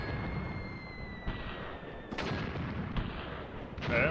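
A 15 cm gun fires in the Graviteam Tactics war game, heavy booming reports over a constant rumble of battle, with a sharp burst at about two seconds and another louder blast near the end.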